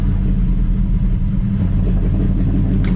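1967 Dodge Dart in a garage, its engine held at a loud, rumbling rev with a steady low drone and a little tire spin, close and continuous without talk.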